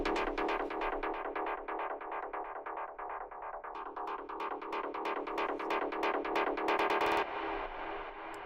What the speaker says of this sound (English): bounce to another channel and reverse the delay tail